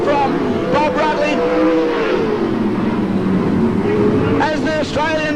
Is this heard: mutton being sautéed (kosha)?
no